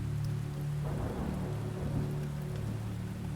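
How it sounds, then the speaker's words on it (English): Heavy rain pouring with thunder, a dense steady hiss of rainfall over a low rumbling drone that swells briefly in the middle, continuous and unbroken with no voices. "Heavy rain patters against the roof of the carriage"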